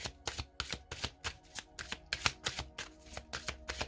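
Oracle cards are shuffled in a steady run of crisp, close riffling bursts, roughly three per second, with no voices.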